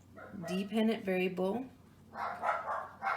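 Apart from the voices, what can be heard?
dogs barking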